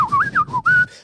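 A person whistles a short wavering tune alone, a clear close melodic line rising and falling in several bursts over about a second.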